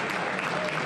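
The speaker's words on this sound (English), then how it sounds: "What a big cheer reverberates around this Harrah's Resort" Crowd at the Harrah's Resort arena for the US Open Pool Championship breaks into loud, dense applause and cheering that fills the whole moment steadily.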